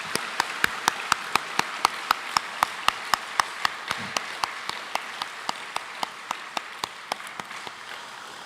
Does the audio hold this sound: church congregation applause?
yes